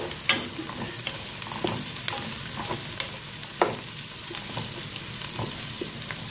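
Onion and cabbage sizzle in oil in a pan while a utensil stirs them, giving sharp scraping knocks at irregular intervals over a constant close frying hiss.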